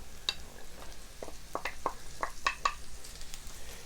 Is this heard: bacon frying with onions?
yes